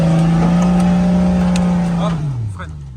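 Nissan Patrol off-road vehicle accelerating, a loud close engine drone holding a steady pitch before dropping as the load shifts, with a voice speaking over it.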